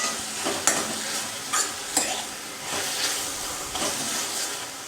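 Slit green chillies frying in oil in a pan for a methi bhaji, giving a bright steady sizzle with several sharp spoon scrapes spaced through it.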